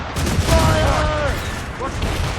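Ship cannons fire in volleys during a naval battle in Assassin's Creed Rogue, with heavy booms mixed into the clamor of combat, loud and close.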